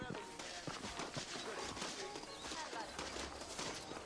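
Horse hooves clop under a dense, loud wash of background noise and speech in Red Dead Redemption, the beats faint and regular through the short stretch.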